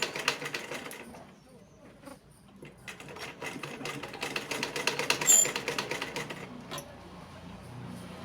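Domestic sewing machine stitching corded piping around a curved neckline, a steady rapid mechanical chatter that pauses briefly and restarts, with short stops in between and no talking.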